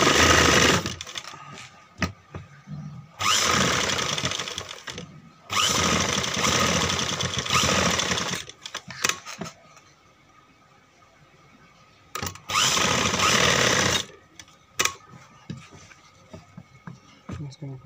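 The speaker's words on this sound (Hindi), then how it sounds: "अब इसको सिलाई लगाएंगे एक बार" A sewing machine runs in three long bursts of fast, steady stitching on net fabric for a suit, with quieter pauses and someone speaking between bursts.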